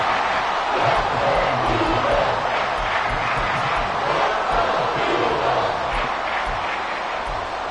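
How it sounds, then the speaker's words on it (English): Stadium crowd in Madden 24 roaring continuously at a steady, loud level ahead of a big third down in an NFL game, a dense wash of many voices with no single speaker. "the crowd getting into it as we come up on a big 3rd down"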